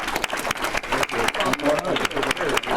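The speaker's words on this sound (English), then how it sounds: "Let's give Marilyn a round of applause" Applause from a Rotary club audience, dense and steady throughout, with a voice talking over the clapping.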